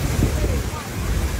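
Strong wind roars steadily into the microphone on a ship deck in rain, a dense rushing noise with faint water and engine sounds beneath it.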